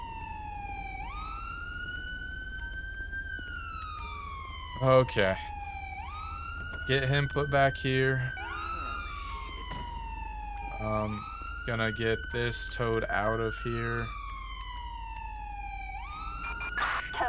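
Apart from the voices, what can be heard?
police car siren in video game GTA V LSPDFR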